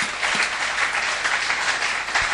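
A church congregation at a French-language Bible seminar claps continuously, a dense, even wash of applause from many hands with no pauses.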